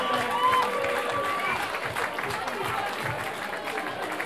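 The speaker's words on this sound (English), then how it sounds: "give them another round of applause for their efforts" A boxing-match audience applauds, a dense, steady wash of clapping from a crowd that holds at an even level throughout, with a faint voice briefly over it near the start.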